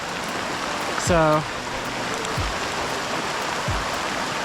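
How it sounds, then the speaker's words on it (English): Light rain patters steadily in the open along a steep unpaved road in Costa Rica or Panama, with a brief spoken word over the soft hiss. "The rain has calmed down a bit. It's just a light pitter-patter at this time."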